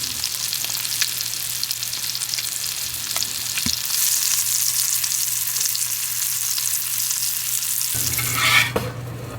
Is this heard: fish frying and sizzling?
yes